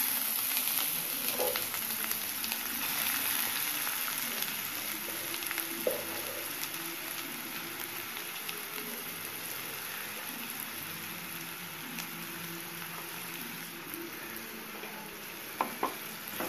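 Steady, crackling sizzle of finely chopped onions frying in hot oil for paneer masala, continuous and close, with occasional soft pops and no talking.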